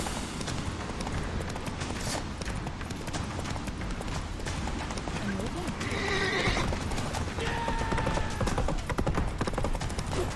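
Geralt's horse Roach gallops in The Witcher 3, with rapid hoofbeats drumming under continuous game sound and one or two whinnies partway through, while voices talk.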